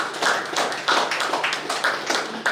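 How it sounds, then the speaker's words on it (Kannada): A small group claps to welcome new JCI Puttur members at an informal club gathering, with uneven, close handclaps in a steady patter that lasts a few seconds with no voices over it. "JCI ಪುತ್ತೂರಿಗೆ ಚಪ್ಪಾಳೆ ಮುಖಾಂತರ ಹೊಸ ಸದಸ್ಯರನ್ನು ಪ್ರೋತ್ಸಾಹಿಸಬೇಕು ಕೇಳ್ಕೊಳ್ತಾ ಇದ್ದೀವಿ."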